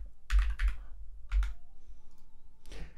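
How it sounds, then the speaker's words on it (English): Short bursts of typing on a computer keyboard while a spending password is entered, two quick clusters of keystrokes followed by a fainter third, close and fairly quiet with no talk. "Going to go ahead and type that in"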